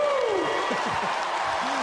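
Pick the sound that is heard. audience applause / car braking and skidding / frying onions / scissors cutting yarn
audience applause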